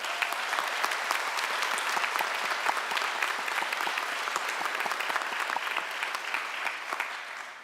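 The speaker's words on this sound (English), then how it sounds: "Please give them all a round of applause." Graduates' families and guests at a 2021 physician assistant commencement ceremony break into sustained applause, a thick, even clatter of many hands that holds for over seven seconds before easing off slightly at the end.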